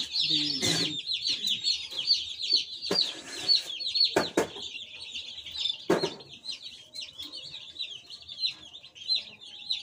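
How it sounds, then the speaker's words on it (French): Young chicks newly arrived in a poultry house peep continuously in high, rapid chirps, with a few louder clucks and bumps of movement scattered throughout. "les poussins là, ils sont rapides, hein?"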